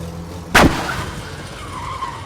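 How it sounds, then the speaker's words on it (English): A plane in a video game touches down roughly, with one sharp, loud crunching impact followed by a scraping, fading rumble and quieter engine noise. "this might be a bit of a rough landing"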